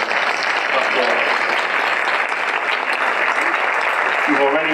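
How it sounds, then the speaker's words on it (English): A dinner audience at a remembrance awards event applauds Rabbi Joe Potasnik, dense sustained clapping that stays loud and even throughout, with a few voices faintly audible near the end. "he deserves an incredible applause"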